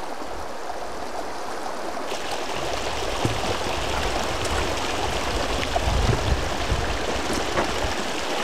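Water flows through a small rock-dammed stream, a steady close rushing and trickling wash that continues unchanged with a few faint knocks and splashes.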